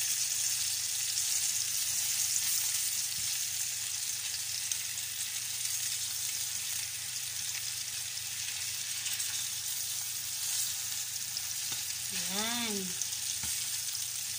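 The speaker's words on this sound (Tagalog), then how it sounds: "Ang ganda-ganda ng pagka-fry. Tamang-tama lang yung pagka-brown niya." Beef sizzles and fries in a pan as a continuous, fairly quiet crackling hiss, with a brief faint chirping tone near the end.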